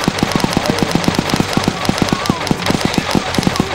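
M249 machine gun firing in a video game, a fast, evenly spaced stream of loud, close automatic shots sustained for nearly four seconds, with faint talking underneath.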